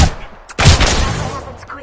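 Gunfire in the Apex Legends video game: a short, loud burst of rapid shots after a brief lull, ringing off and fading over the final second.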